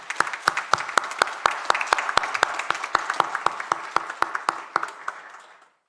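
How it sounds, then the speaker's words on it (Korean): A church congregation claps for graduating and promoted church-school students, individual claps landing in a fairly steady rhythm, loud and close, then thinning and stopping at the end. "여러분들 힘찬 박수로 한번 우리 축하해 주면 좋겠습니다"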